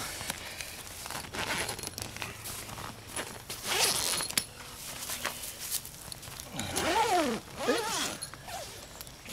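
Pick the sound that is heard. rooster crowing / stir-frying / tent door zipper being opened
tent door zipper being opened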